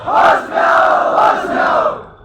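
A large crowd at a street protest shouts a slogan in unison, loud and close, its voices rising and falling in rhythmic waves over about two seconds.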